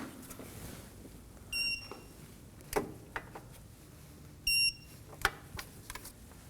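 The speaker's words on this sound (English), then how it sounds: "now we're gonna be torquing those to 73 foot-pounds" A torque wrench tightens front hub bolts to 73 foot-pounds on a 2016-2020 Kia Sorento during a wheel bearing and hub replacement. Two short bursts of electronic beeping come about three seconds apart, with scattered light clicks and handling noises in between.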